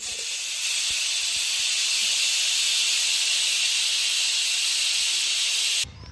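A new pressure cooker with fenugreek-leaf dal inside lets out a loud, steady steam hiss for several seconds before it cuts off abruptly, with faint kitchen knocks underneath.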